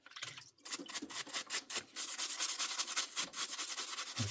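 Old grease and grime being scrubbed out of a parts washer tray during a Makita drill repair, a steady, close, gritty rubbing and scraping that runs almost without pause.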